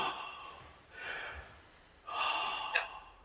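Slow, deep abdominal breathing is demonstrated up close: three soft, airy breaths drawn in and let out in turn, the last the loudest, with a brief catch near its end.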